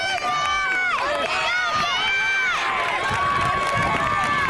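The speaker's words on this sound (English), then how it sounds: "You can hear a crowd here, a lot of excitement." Spectators cheer and shout excitedly along the course of a boys' cross-country championship race, a dense, continuous crowd roar with high-pitched yells rising and falling throughout.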